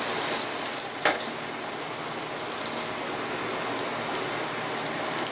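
A thick heated metal hot plate, used with no oil while plating bibimbap, gives off a steady, soft sizzle with a brief sharper crackle near the start.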